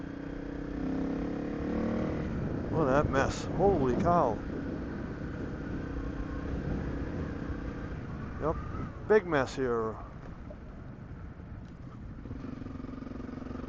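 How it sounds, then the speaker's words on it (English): Small motorcycle running steadily while the rider travels a road strewn with tornado debris in Chestertown, a constant low engine drone under a man's speech and wind rumble. "That's what happens when you're on a little motorcycle."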